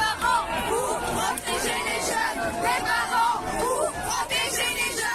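A young crowd at an outdoor party shouts and chants as riot police break it up. Many voices yell over a constant hubbub of close, overlapping crowd noise.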